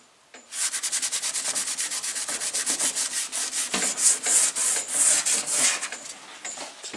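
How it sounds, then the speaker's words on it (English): Rapid, rhythmic rubbing strokes on a Monte Carlo SS car panel being wiped with wax and grease remover, close and steady, with no voices. "You can do it with this wax and grease remover."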